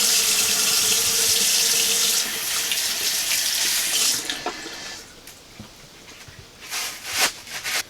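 Cold water gushes from a tap in an off-grid cabin sink, a loud steady splash that is then interrupted and broken up by hands being washed, ending in intermittent splashes and drips.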